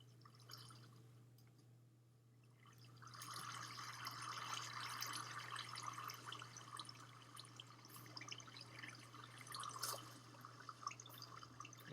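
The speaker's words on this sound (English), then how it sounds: "We just built ourselves a waterfall." Water streams down a freshly built waterfall in Minecraft, a soft, faint trickling and splashing wash that rises after a brief quiet moment and runs steadily beneath a low constant hum.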